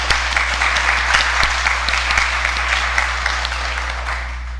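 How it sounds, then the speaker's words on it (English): Church congregation applause fills the space, dense clapping from many hands held steady and loud throughout, slowly tapering near the end, with no talk over it. "I still want to extend another round of applause"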